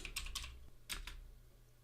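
A few quick keystrokes on a computer keyboard tap out a short git log command, in two brief clusters, soft and close in an otherwise quiet room.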